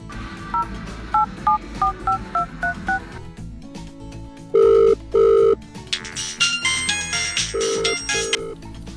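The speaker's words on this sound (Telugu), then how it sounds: "ఒకసారి జ్యోతికి ఫోన్ చేసి చెప్పడం మంచిది" A phone being dialed: a quick run of keypad beeps, then repeated ringing tones and a bright electronic ringtone melody.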